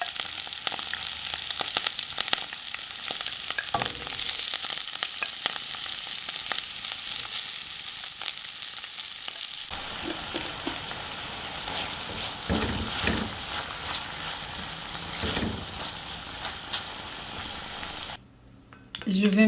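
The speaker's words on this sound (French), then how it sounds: "je vais faire rissoler les légumes" Vegetables sautéing in olive oil in a tagine give off a continuous hiss and sizzle that shifts partway through as stirring begins, with faint spoken narration over the cooking.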